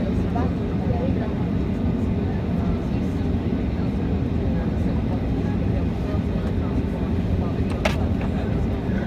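Ryanair Boeing 737-8AS jet engines spool up to leave the parking position, a loud, steady roar heard from inside the cabin throughout.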